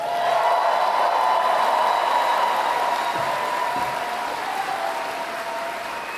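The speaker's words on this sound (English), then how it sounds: "did I wait long enough for the applause to swell?" Steady, dense applause from a large crowd at a Comic Con 2022 panel fills the space, holding strong before easing slightly toward the end.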